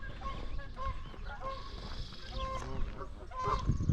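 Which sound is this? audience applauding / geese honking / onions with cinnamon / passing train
geese honking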